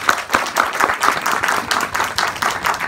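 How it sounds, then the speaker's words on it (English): A room of listeners at a mentoring talk for medical students applauds, brisk rhythmic clapping with a few hands standing out, fairly close and steady for a few seconds with no speech. "a big applause for this gentleman."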